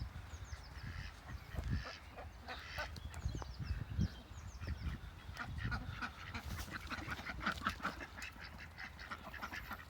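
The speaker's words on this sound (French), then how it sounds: "Tiens, les canards ont trouvé le bain que je leur ai préparé." Ducks quack and honk steadily outdoors at a garden water trough, several birds calling over one another at moderate distance, with faint splashing underneath.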